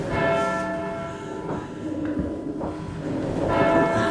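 A church bell rung by hand from its tower, each heavy toll ringing out loud and sustained with long overlapping decays, struck roughly every one to two seconds with no voices present.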